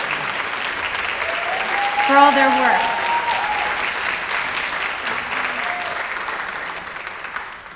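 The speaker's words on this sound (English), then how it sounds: "if you could give them a round of applause" Audience applause at a Black women's healthcare summit swells for honorees walking out, a steady wash of clapping that continues under a speaker's voice.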